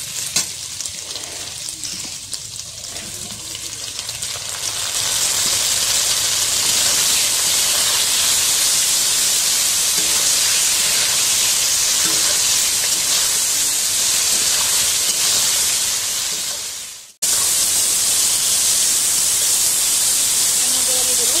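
Chopped tomato hits lightly fried onions in a pan for a Bengali country chicken curry, setting off a loud, steady sizzle that swells after a quieter start and runs continuously, briefly cutting out near the end before resuming.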